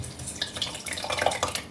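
Chicken stock is poured into an Instant Pot, a steady liquid splash with small drips and trickles close by, heard alone without talk.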